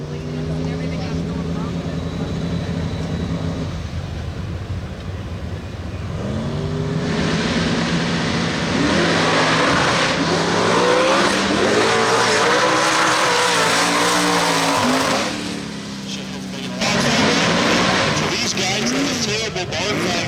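A drag race car with a production 6-liter engine and a big single turbo runs at a street race pit area, its steady engine drone and revs rising and falling beneath continuous nearby talk.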